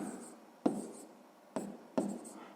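Pen scratching on paper while a sixth-grade math solution is written out: soft continuous scribbling broken by three sharper taps or strokes, close and quiet with no talk.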